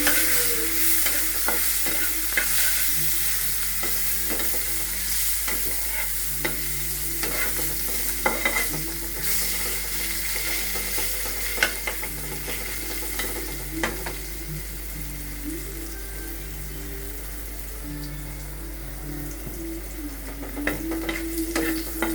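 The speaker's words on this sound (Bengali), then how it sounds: "রসুন ভাজা ভাজা হয়ে গেছে।" Chili and garlic frying in hot oil in a pan: a continuous close sizzle with repeated stirring and scraping strokes throughout.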